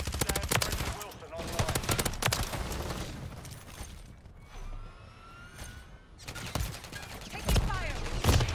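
Rapid bursts of automatic submachine-gun fire in Call of Duty: Modern Warfare III multiplayer, crackling volleys near and loud, broken by a quieter lull mid-clip before more shooting resumes.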